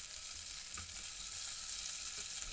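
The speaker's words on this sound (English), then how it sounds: "add the onions and pepper and cook on high for around 5 minutes until they start to catch" Onions and pepper frying on high heat in hot, smoking oil for a British Indian Restaurant-style bhuna, a steady close hiss and crackle of sizzling with faint stirring, no talk.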